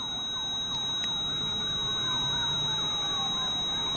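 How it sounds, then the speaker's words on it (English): Wailing sirens rise and fall continuously near a sanatorium in the woods, fairly loud over a constant background hum, with a faint voice briefly audible beneath them. "That's the first time I've ever heard sirens."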